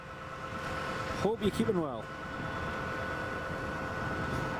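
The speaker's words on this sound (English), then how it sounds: "It's just the tractor doing some hedge cutting." Tractor working a hedge cutter nearby at an airport-side spot, a steady mid-pitched engine drone with a constant tonal hum running throughout, someone briefly talking over it.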